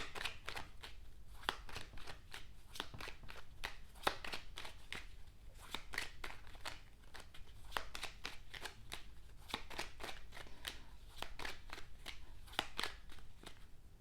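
A deck of tarot cards is shuffled and cards are drawn nearby, making rapid, crisp riffling flutters and snaps in a continuous quiet rhythm with no voice over them.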